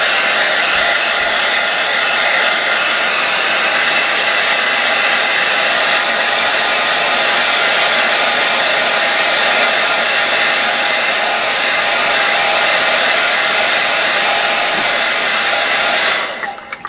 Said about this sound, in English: we'll hit it with a hairdryer just to make things quicker and see how we did